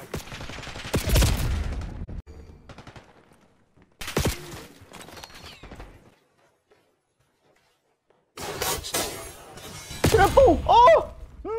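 Bursts of gunfire in the video game Call of Duty Black Ops 6 come in sharp, loud clusters separated by short gaps, with a quiet stretch before a final dense volley mixed with other game effects.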